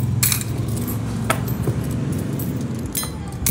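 Coins clink and jingle in scattered bursts during a tongits card game, sharp metallic chinks over a busy low background murmur of the table.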